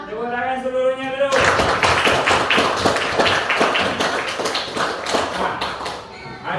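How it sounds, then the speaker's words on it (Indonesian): A class of pupils claps hands together in a classroom, fast, loud, fairly rhythmic claps starting abruptly after a voice and continuing steadily for several seconds, close by. "Tepuk tangan seluruhnya dulu."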